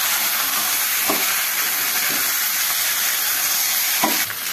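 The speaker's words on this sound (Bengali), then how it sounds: "তো এটা আমি কষাবো 10 থেকে 15 মিনিট হালকা একটু নেড়ে দিব" Chicken pieces sizzling in a pot for a Kolkata-style home biryani, a steady loud frying hiss broken by a few scraping stirs of the spoon spaced about a second or two apart.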